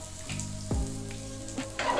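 An oats pancake cooking in a pan over lowered heat, giving a soft, steady sizzle with faint crackles and a few small clinks, fairly quiet and close, with no talking.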